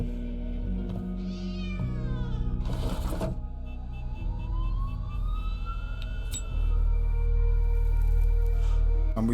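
Cat meowing in the video game The Operator, several clear drawn-out meows over a layered electronic background with hums, beeps and a rising tone, no talking.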